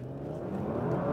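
Audi RS4 estate (2019) pulling away hard from a standstill, a steady rising engine drone and whir building in loudness over about a second, no voices.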